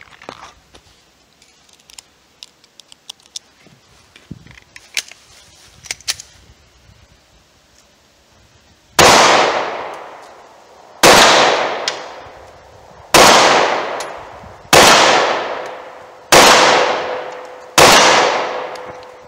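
Six loud, evenly spaced 9mm pistol shots ring out at a steel tank, each a sharp crack with a decaying ring. Quieter scattered clicks and handling noises come first.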